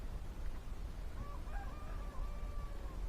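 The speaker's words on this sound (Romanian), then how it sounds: "s-a auzit cocoșul pe fundal" A rooster crows faintly in the background at a rural woodland building site, a thin drawn-out call rising over steady outdoor noise and rustling.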